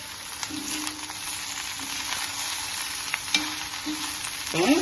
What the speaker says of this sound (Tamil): இந்த காயும் இந்த வெங்காயம் இதெல்லாமே இதுல போட்டு ஒரு பெரட்டு பெரட்டி விட்டுக்கிறோம்